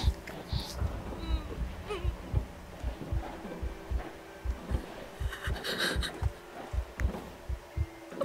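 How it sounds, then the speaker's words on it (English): Slow, steady child's heartbeat in the horror game Among the Sleep, soft rhythmic thumps repeating throughout under a low hum, with a person speaking over it. "I can hear the heartbeat of the kid."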